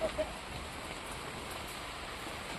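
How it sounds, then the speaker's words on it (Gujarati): A sudden heavy downpour gives steady, dense rain hiss that stays even and continuous throughout. It is moderately loud and close, with two faint brief ticks at the start and no voices. "અહીંયા હાલતા અચાનક વરસાદ આવી જાય"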